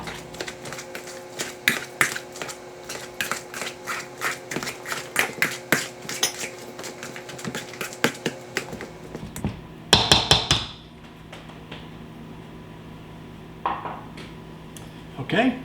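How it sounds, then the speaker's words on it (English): A potato masher works through twice-baked potato filling in a bowl, a long run of sharp, rhythmic knocks and clatters against the dish, followed by a short louder burst and a few scattered taps. "we're just going to take a simple potato masher and just mash everything together"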